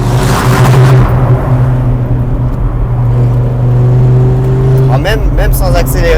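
A Dodge Viper SRT-10's V10 engine drones loud and steady from inside the car, holding a deep note before a short rising rev near the end, while someone talks over it.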